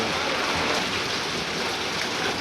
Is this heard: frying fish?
no